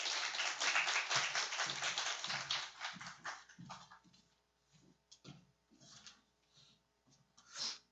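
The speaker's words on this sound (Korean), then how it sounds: "함께 박수로 우리 황규를 한번 맞아 주시면 감사하겠습니다." Church congregation clapping to welcome a speaker to the front during a Sunday service, a dense burst of applause that thins out into scattered claps and quiet rustling.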